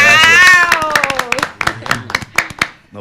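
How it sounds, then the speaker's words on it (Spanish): An audience breaks into applause at a public talk, a dense patter of hand claps close by. A voice speaks over the start before the clapping carries on alone. "Un aplauso para Cau."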